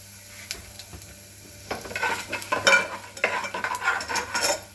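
Chana dal and asafoetida powder sizzle in hot oil in a pan while being stirred for South Indian sooji rice, a steady crackle with scraping spoon strokes growing busier, close and unaccompanied by talk.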